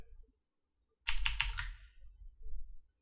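Computer keyboard keys pressed in a quick cluster of four or five distinct clicks, then a softer run of light taps, close and clear with no talking.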